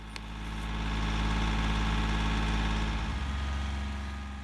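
Tractor engine idling and running steadily while it lifts a fallen log with a fork and chain, a low, even mechanical hum with vibration that swells slightly and holds throughout.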